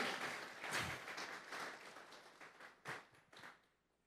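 A church congregation applauds at a Sunday service, a dense wash of clapping that swells early, thins, then picks up in a couple of bursts before fading out.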